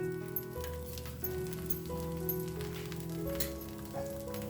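Oil sizzles in a pan while poha batter cooks, a steady hiss that runs throughout beneath sustained background tones.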